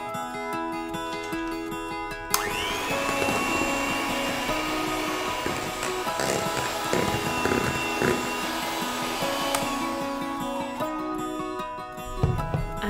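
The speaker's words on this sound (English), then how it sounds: "we whisk this until all the ingredients are combined" Whisking brownie batter with melted butter produces a loud, continuous whirring and scraping that runs steadily for about ten seconds, with a quieter room before and after and no talking.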